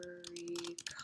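Quick, close clicks of typing on a computer keyboard, a short burst of keystrokes over a faint steady electronic hum.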